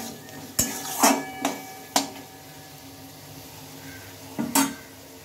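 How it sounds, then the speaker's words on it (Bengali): Chopped tomato and spice paste being sautéed in a pan: a handful of sharp spatula knocks and scrapes against the metal, spaced irregularly, over a faint sizzle. "মশলার সাথে টমেটোটা দিয়ে এটাকে ভালোভাবে কিন্তু কষাতে থাকতে হবে।"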